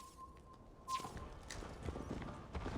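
Horse hooves clopping in the Viking-era game Assassin's Creed Valhalla, a steady run of soft footfalls under a constant tonal hum and a game ambience bed, with no voices.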